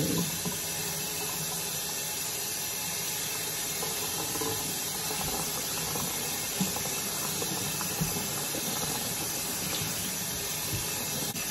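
Steady running water from a tap pouring while hair is washed at home, a constant close hiss and splash with no pauses.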